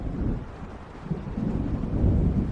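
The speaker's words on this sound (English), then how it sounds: "It seems there's a storm coming." Thunder from an approaching storm in the Alan Wake video game, a low, continuous rumble that swells slightly louder toward the end, with a soft rain-like hiss over it.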